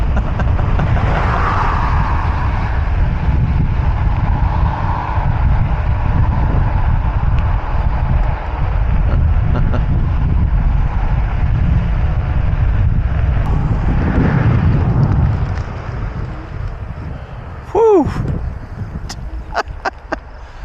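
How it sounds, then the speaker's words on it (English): Strong headwind roars across an outdoor microphone for about fifteen seconds, a dense, loud buffeting rumble that eases near the end, leaving quieter gusts and a few brief clicks. "I'm heading into what a headwind!"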